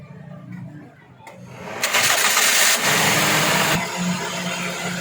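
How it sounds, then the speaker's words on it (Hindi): A Toyota Corolla with an engine control module injector fault cranks and then catches. A loud whirring start settles into a steady idle at close range, and a voice speaks briefly beforehand. "स्टार्ट करो गाड़ी।"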